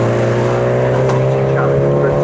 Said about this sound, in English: We currently have 19 cars out on track.